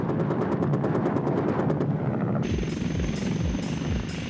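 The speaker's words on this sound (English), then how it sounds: "This is the Tiger, Europe's answer to the Apache. It's a dual-engine helicopter with immense power and unbelievable agility." A Eurocopter Tiger dual-engine attack helicopter, heard as a loud steady rotor thump and turbine whine that shift partway through into a sharper, pulsing blade chop.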